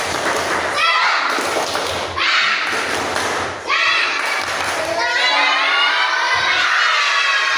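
A class of children does the tepuk semangat clapping routine, chanting loudly in unison between heavy, rhythmic bursts of clapping and thumping, ending in a drawn-out group cheer.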